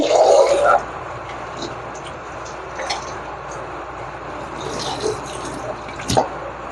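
Water sloshes briefly as rice is washed, then gentle wet swishing and dripping sounds follow, with a few soft splashes at close range.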